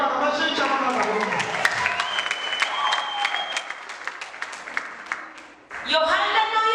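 A church congregation claps steadily and loudly together while a preacher's voice carries over the applause, and the clapping swells again at the end.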